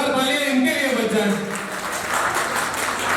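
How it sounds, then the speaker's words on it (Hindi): Clapping at a ring ceremony celebration begins under a voice on a microphone, then swells into a steady, fairly loud round of applause from the gathered guests once the talking fades. "एक बार भाई जरा जोरदार तालियां इनके लिए बच जाए।"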